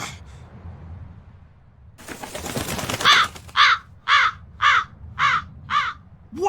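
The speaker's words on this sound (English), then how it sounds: "That crow just flew off with the coin!" A crow in Tales of Berseria calls with a run of six harsh, evenly spaced caws, loud and close, after a burst of flapping wings and faint ambient noise.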